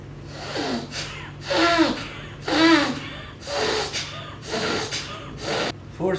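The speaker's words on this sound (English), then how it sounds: "Forceful inhalation and forceful exhalation. That is what is Bhasrika." Bhastrika bellows breathing, a series of about seven forceful, rhythmic inhale-exhale bursts through the nose, close and clear, with short pauses between them and no talking.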